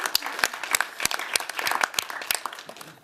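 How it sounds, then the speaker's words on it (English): A small audience at a design competition conference claps for an absent entrant, sparse distinct hand claps ringing out close by with uneven timing. "We'll clap for him anyway"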